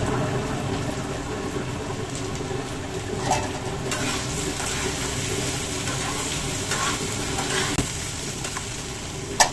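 Potatoes sizzle steadily in a hot pan as fresh green chillies are tossed in, a continuous close frying crackle with occasional stirring clinks.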